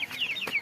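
Chicken clucking close by, a few quick rising calls over a steady low background hum, with no voices.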